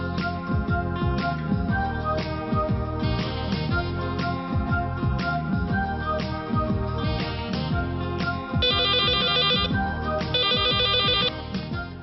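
A telephone ringtone plays repeatedly, a bright electronic ringing pattern over musical tones, with trilling bursts toward the end; no talking.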